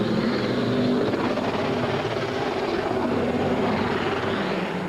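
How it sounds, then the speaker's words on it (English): Race car engines screaming on the rev limiter as cars leave a pit stop at the 2003 Union 76/Rockingham World Pit Crew Competition, a loud continuous roar that holds steady without a break and with no talk over it. "Murdering those engines on the rev limiter when they leave"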